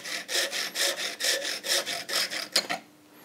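Hand saw cutting a small kerf in a piece of wood clamped in a vise, with about seven steady back-and-forth rasping strokes at a quick, even rhythm, close up and alone, then stopping.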